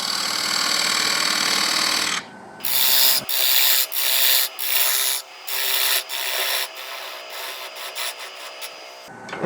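A 3/16 parting tool cuts into spinning wood on a lathe, starting as a steady scraping whir and then breaking into a series of close, intermittent rasping bursts separated by short gaps, with no voices.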